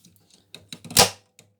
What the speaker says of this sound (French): J'adore entendre le bruit des contacteurs.